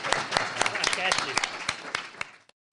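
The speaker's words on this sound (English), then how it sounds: "Could I get a round of applause for a terrific panel?" An audience applauds a panel with dense, steady clapping that fades and stops abruptly near the end, with a voice speaking over it.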